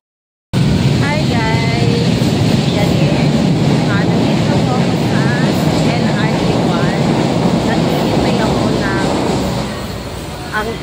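A commuter train bound for Baclaran, Manila, rumbles loudly and steadily with dense low roar and faint high squeals, then eases slightly near the end, with a voice speaking over it.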